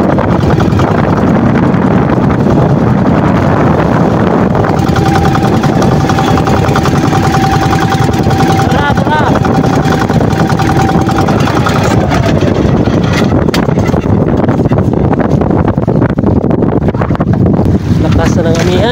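Strong northeast monsoon wind buffets a boat at sea, a loud, steady roar of wind noise over an engine's low hum, continuous throughout with no break.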